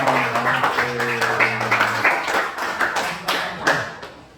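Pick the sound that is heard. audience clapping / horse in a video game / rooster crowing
audience clapping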